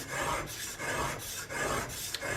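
Small flat sharpening stones honing a dagger blade, a steady rhythmic rasping in back-and-forth strokes, close and fairly loud with no talking.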